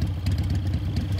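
A vehicle engine idles in the Metal Gear Solid 3: Snake Eater video game with a steady, rumbling, lightly clattering drone that runs evenly throughout, close and unbroken, with no talking.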